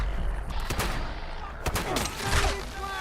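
Rapid bursts of .50 cal machine gun fire in Fallout 76 rattle through a loud, dense combat mix, with sharp repeated shots layered over constant background noise.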